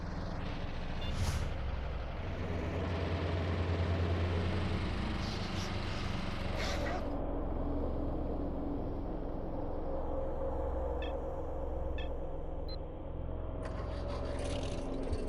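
A Zaporozhets car drives in the video game S.T.A.L.K.E.R.: Lost Alpha, its engine a steady low rumble throughout with occasional scrapes and clunks from the road.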